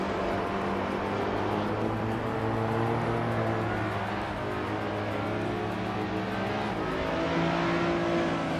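Race cars on a figure-8 track in a video game, led by a 2008 Lotus Elise SC, engines droning and revving steadily and loudly throughout with overlapping tones, no talk.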